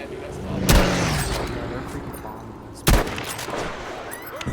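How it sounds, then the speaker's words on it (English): Two heavy blasts, bombs landing in a video game, each a sudden loud boom with a rumbling tail, the second arriving about two seconds after the first, over continuous background noise with a voice talking now and then. "Oh shit, something big just blowing up here"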